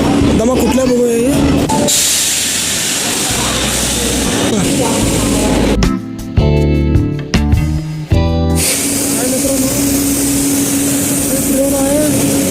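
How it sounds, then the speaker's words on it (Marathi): A Kolhapur Nagpur Express pulls into a station with a broad rumbling rush and hiss, interrupted midway by a burst of sharper clanks and knocks, while a voice talks over it. "ट्रेन आहे कोल्हापूर नागपूर एक्सप्रेस."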